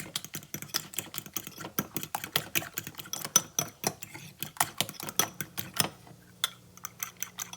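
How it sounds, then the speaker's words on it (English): Eggs and cheese seasoned with black pepper being whisked in a bowl, a fast, steady run of close utensil clicks and scrapes that slows to a few taps at the end. "And give that a mix."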